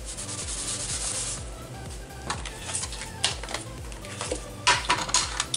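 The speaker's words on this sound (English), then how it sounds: "And then I'll cut it out." Scissors cutting paper to make scrapbook ephemera, giving close dry snips and rubbing crackles in irregular bursts, a few sharper cuts later on, with no talking.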